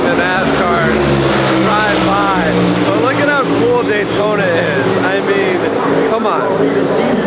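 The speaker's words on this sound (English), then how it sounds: "It is so loud hearing the NASCAR drive by" NASCAR race cars roar past at Daytona International Speedway, a loud, continuous wall of engine noise with repeated rising and falling whines as cars sweep by close, and voices talking beneath the din.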